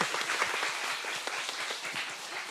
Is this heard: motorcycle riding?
no